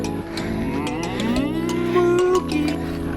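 Cow mooing outdoors while camping in Big Sur, one long drawn-out low call that rises and shifts in pitch, loud and near, alone with no talk.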